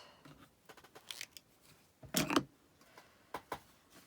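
Scissors snipping through folded quilting fabric strips, a few faint crisp cuts with one louder, longer snip in the middle, close and otherwise quiet.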